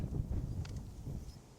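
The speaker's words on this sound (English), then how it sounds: "it's quite windy today and there's a real bite to that wind" Cold, biting wind gusts steadily against the microphone in a sheltered spot behind a wall outdoors, a low continuous rumble with no speech.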